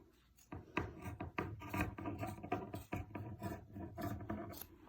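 Scissors snip and rasp through excess fabric on a homemade cloth mask, a series of close, irregular cutting and rubbing sounds repeating steadily throughout.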